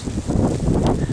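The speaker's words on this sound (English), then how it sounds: "Wind's really picking up now." Strong wind roars steadily during a snow blizzard, a dense, continuous rush with small gusty swells close to the microphone.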